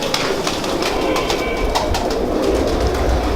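Pigeons coo and flutter close by, with soft repeated bird calls over a constant bed of outdoor background noise.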